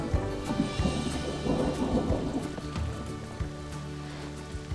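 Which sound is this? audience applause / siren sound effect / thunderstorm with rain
thunderstorm with rain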